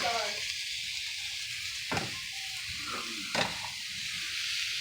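Mushrooms sauté in a pan for a vegetable lasagna, giving a steady hiss with two brief louder bursts as the pan is stirred or shifted.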